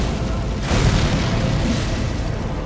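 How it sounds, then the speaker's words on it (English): A loud, booming explosion from a boss attack in Elden Ring: Shadow of the Erdtree, a dense rumbling blast that surges and stays heavy throughout, with no talk over it. "Although, it's a bit of an explosion."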